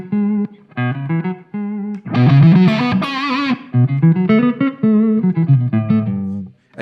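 An electric guitar plays through a BIAS Head amp while patches are switched from a MIDI controller, moving from clean picked notes to a thick distorted burst and back to cleaner melodic lines with quick tone changes.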